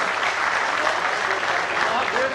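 Audience applause at an event in Rajasthan, dense continuous clapping filling the whole short stretch at close range.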